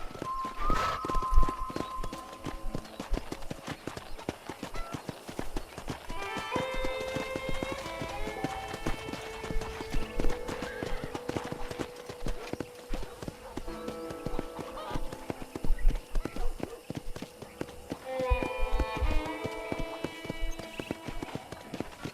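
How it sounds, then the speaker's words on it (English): Horse hooves clip-clop steadily across ground in Red Dead Redemption, a continuous rhythmic patter at close range with occasional whinnies, played over game music with tonal melodic lines and no talking. "Okay, let's see if you can still ride a horse."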